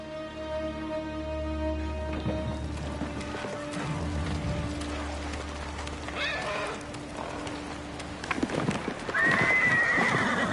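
A horse in the Ghost of Tsushima video game neighs and whinnies loudly, with clip-clopping hooves and low game ambience; a whinny rises near the end.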